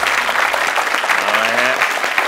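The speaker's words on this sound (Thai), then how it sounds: "มีเสียงเชียร์จากด้านข้างนะครับ" Crowd at an awards event cheering and applauding off to one side: a dense, continuous roar of claps and voices that stays loud for the whole stretch, with a few raised vocal tones rising above it.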